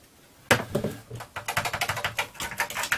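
Keys on a Texas Instruments TI-99/4A home computer keyboard are pressed in rapid, uneven bursts of sharp plastic clicks, close and fairly quiet, continuing for a few seconds.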